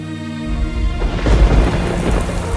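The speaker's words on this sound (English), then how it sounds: "The rain begins to fall again as Clara and Mark stand in the dark" Heavy rain pours steadily while a deep roll of thunder swells in and rumbles loudly, close and unbroken, with no voices.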